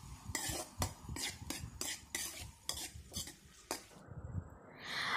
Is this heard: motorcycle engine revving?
no